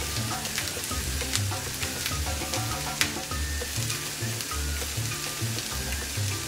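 Spices, cinnamon and thyme leaves, toasting in a hot pan for a vegetarian coconut curry, giving a steady close sizzle and fry with faint crackles and occasional stirring scrapes throughout.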